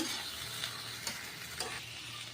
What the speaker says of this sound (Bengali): আদা রসুনটাকে পেঁয়াজের সাথে ভেজে নিচ্ছি এখন দিয়ে দিচ্ছি একটা টমেটো কাটা আবারও নেড়ে চেড়ে দিচ্ছি